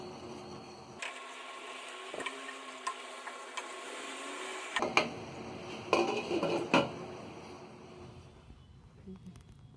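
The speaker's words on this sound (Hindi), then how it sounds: "इसे हम थोड़ी थोड़ी देर में चलाते रहेंगे ताकि ये नीचे ना लग पाए" Dry dates simmering in a pot of liquid for halwa get stirred now and then, giving scattered scraping and clinking of a spoon against metal under a low steady hiss, soft and close.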